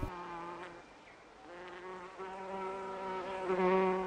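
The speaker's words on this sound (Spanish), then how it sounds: "Las moscas." Flies buzz close by with a steady, droning hum that wavers in pitch and swells slightly louder toward the end, with no talking.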